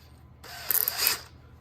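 A brief mechanical ratcheting whir as a drill chuck is tightened, one short burst close up, then quiet.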